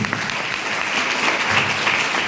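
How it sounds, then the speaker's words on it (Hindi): An audience at a Hindi-language talk bursts into loud, dense applause, a continuous close clatter of many hands filling the whole moment without speech. "तो अपने लिए जबरदस्त ताली बजा लीजिए"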